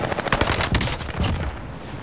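Automatic gunfire from a gun in Call of Duty: Modern Warfare rattles out as a loud, rapid, unbroken burst of shots, with no voices over it.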